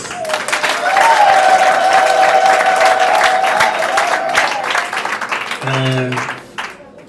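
Wedding guests break into sustained applause, dense clapping that swells then gradually thins before a short vocal burst near the end.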